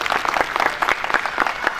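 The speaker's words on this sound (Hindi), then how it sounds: "ताली बजा करके इनका उत्साहवर्धन करेंगे" An audience at a blanket-distribution event for people in need applauds with dense, continuous clapping.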